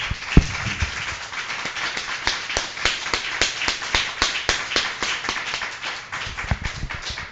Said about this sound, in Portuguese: Vamos dar uma salva de palmas bem bonita para ele.